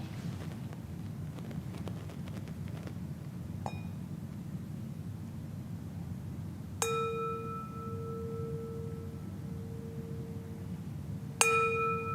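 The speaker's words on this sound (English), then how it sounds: "I will now ring the gong to signal the end of the meditation." A meditation gong is struck twice to close a session at a weekend metta retreat, each strike ringing out clearly and sustaining over a steady low background hum.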